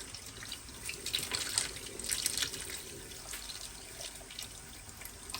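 Water being poured out of a pot of cooked peas splashes and trickles faintly and steadily into a sink, with brief louder gushes and no talking.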